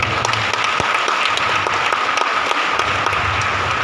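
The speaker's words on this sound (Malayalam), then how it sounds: "എല്ലാവരോടും ഒരു കൈയടിക്കാം" A seminar audience of Sunday school teachers claps in steady, dense applause that holds at even loudness throughout.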